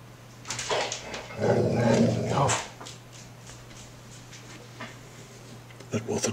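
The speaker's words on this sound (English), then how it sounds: "That was a dog." A dog gives a short, muffled burst of barking or whining somewhere in the background of an airbrush painting session, heard briefly over a steady low hum and fairly faint.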